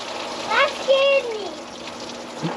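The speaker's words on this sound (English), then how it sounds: "We're gonna hear all the coolant and everything just dump out of this thing." Coolant gushing out of a 2006 Chrysler 300 SRT8 engine into a drip pan, a steady wash of pouring liquid with voices, including a child's, rising over it.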